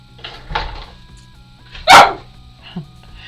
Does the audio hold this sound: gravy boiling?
no